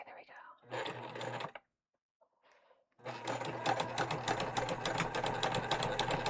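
Sewing machine top stitching a tote bag, a short whirring burst, then a pause with soft whispered talk, then a longer steady run of rapid needle chatter, close by.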